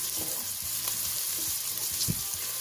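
Red onion frying in a pan for fish roll filling: a steady, close sizzle with occasional soft scrapes and stirring knocks.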